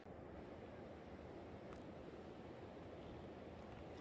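A river flowing right beside a hotel in Tahiti's Papenoo valley, a steady broadband rush of water that fills the whole stretch evenly and closely, with no voices.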